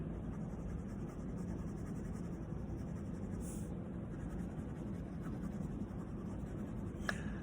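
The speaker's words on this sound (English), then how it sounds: "I'm pushing this pencil further and further and further out from where I began." A colored pencil shades across paper in a steady, soft scratching stroke that continues quietly and close throughout, alone with no talk.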